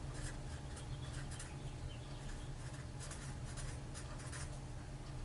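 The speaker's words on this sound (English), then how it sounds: "Let me write these down." Marker or pen scratching on a board while circuit diagrams are drawn: a quiet, continuous run of small strokes and taps against a steady background hiss, with no talk.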